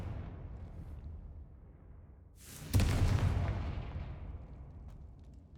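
Confringo blasting spell in Hogwarts Legacy: a rising whoosh leads into one loud, sudden explosive boom, whose rumble fades slowly over the next few seconds against quiet game ambience.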